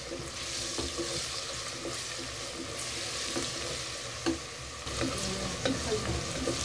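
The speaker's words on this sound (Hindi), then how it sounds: "एक मिनट हमने इनको फ्राई किया है" Whole garam masala, browned onions and ginger-garlic paste frying in a pan, a steady close sizzle with soft stirring scrapes throughout.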